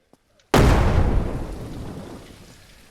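A grenade blasts in the zombie survival game Surroundead, a sudden loud boom after a moment of near silence, its rumbling roar slowly fading over the next few seconds.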